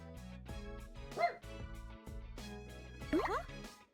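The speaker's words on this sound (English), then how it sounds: "What's a dog doing here?" A dog barks in the fighting game Persona 4 Arena Ultimax, two short yelping barks over looping game music, fairly close and clear.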